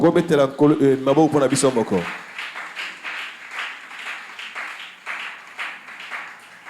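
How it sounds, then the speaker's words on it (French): A church congregation breaks into steady applause after someone speaking French stops, the clapping continuing at moderate loudness to the end. "Est-ce qu'on peut acclamer pour nous-mêmes?"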